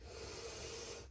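A slow, deep breath in through the nose during a yoga lunge, a soft, airy inhale heard close and fairly quiet that fades out at the end.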